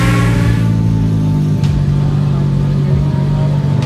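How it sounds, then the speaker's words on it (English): Ten JDM cars rev their engines as they set off on a cruise together, giving a loud, steady engine drone with a strong low hum that swells near the start. "we're gonna go on a crazy 10-car JDM cruise right now"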